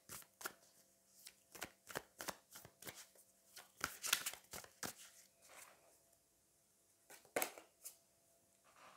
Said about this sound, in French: je vais aller prendre une carte supplémentaire